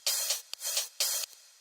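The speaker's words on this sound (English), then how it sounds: "I have this crash which sounds like this." A crash cymbal sample from a melodic dubstep track strikes three times in a loose pattern, each a loud bright wash of hiss with short ghostly taps between, alone and up front.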